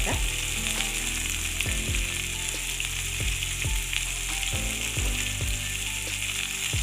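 Tomatoes frying with turmeric and salt sizzle loudly and steadily in a pan, while a spoon stirs them with repeated scraping knocks against the pan at a regular, fairly quick pace, up close.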